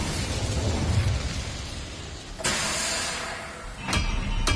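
A fire spell cast in the game Hogwarts Legacy: a sudden whooshing burst that flares and slowly fades, followed by another sharp flare, heard alone and close over a steady background.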